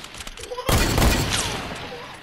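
A sniper rifle quick-scope shot in Fortnite lands as one sharp, loud blast after a brief quieter lead-in, followed by a ringing, decaying tail.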